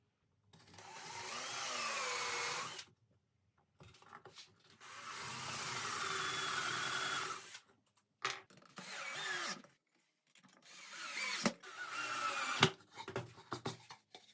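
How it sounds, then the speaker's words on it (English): A power drill driving screws into the wooden front panel of a wren birdhouse, in four loud whirring bursts separated by short pauses, the last broken into choppy stop-start pulses, with no talk. "Don't want any cracks while I drill in the screws."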